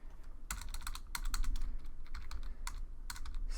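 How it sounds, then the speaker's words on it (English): Rapid typing on a computer keyboard while coding, with bursts of close, crisp key clicks separated by short pauses and no voice. "If I can type right."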